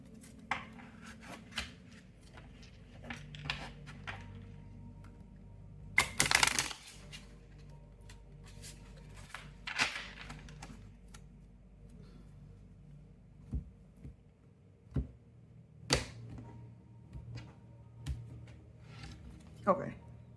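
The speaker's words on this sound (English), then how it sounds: "one more shuffle." Tarot cards being shuffled by hand: soft papery rustling with sharp riffling bursts at irregular intervals, close and fairly quiet, over a low background hum.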